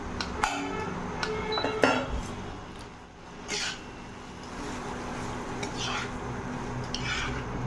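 Okra goes into a pan of cooked spice mix and is stirred, giving light clinks and scrapes of a utensil against the pan over a soft, steady background.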